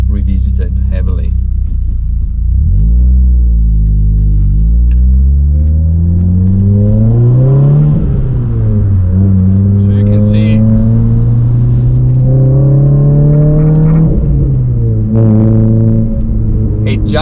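A factory-tuned engine from the old Clio generation, heard close up and loud as it revs repeatedly, climbing in pitch several times, dropping back between pulls and ending on a steady rising run.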